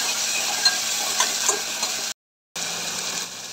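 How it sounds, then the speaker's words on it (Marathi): Ginger, garlic, coriander and green chili paste is stirred into browned onions in a pan for misal pav, giving a steady close sizzle and scraping with a brief silent gap near the end. "आलं, लसूण, कोथिंबीर, मिरची असं वाटण टाकून घेऊया। छान प्रकारे फिरवून घेऊया।"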